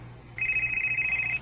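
A telephone rings with an incoming call: one steady electronic ring lasting about a second, clear and fairly loud over a quiet low hum, with no talking.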